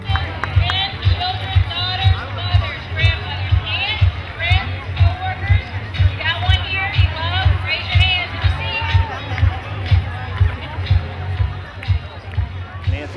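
Family and friends cheer on breast cancer survivors walking through a Pink Parade, a dense outdoor crowd hubbub with whoops and calls rising over steady low rumble throughout.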